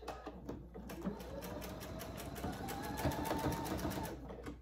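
A sewing machine runs in a quick, even rattle of needle strokes, stitching forward and back to tack a casing on a pillowcase dress, close and fairly quiet with no talk.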